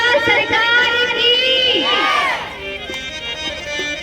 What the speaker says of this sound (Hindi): तने एक जयकारा जोर से लगा लगा बोलिए खाती बाबा सरकार की